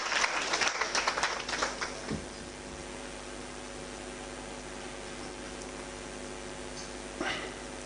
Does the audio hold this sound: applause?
yes